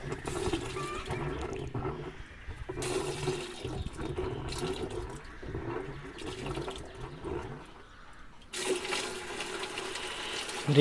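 Water from a pump gushes and pours into a bucket, a steady splashing flow with gurgling that briefly drops near the end before surging back louder.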